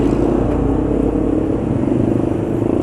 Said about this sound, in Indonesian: Ini mesin masih halus, getaran mesin masih minim, aditifnya masih fungsi.